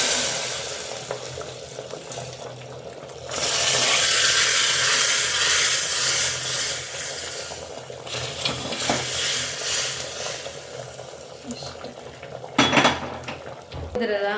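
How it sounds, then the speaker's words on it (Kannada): Mustard seeds, curry leaves and garlic sizzle in hot oil for a sambar tempering, with loud crackling frying, clinks of a ladle against the pan and stirring, rising and easing over several seconds. "ಸಾಸಿವೆ, ಅದರ ಕರಿಬೇವಿನ ಸೊಪ್ಪು, ಬೆಳ್ಳುಳ್ಳಿ ಸ್ವಲ್ಪ ಚೆನ್ನಾಗಿ ಫ್ರೈ ಮಾಡ್ಕೋಬೇಕು."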